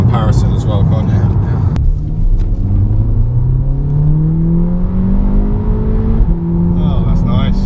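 Audi S3 2.0 TFSI with S Tronic gearbox accelerating from inside the cabin, engine note rising steadily through gears with a brief shift dip, loud rumble under people talking.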